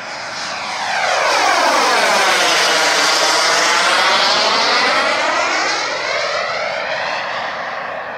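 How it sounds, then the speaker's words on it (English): A Bell P-59 Airacomet jet drones loudly overhead in calm air, its engine tone sweeping as it passes close by, steady and continuous for several seconds with no talk. "it's a beautiful flying airplane when it's calm like this"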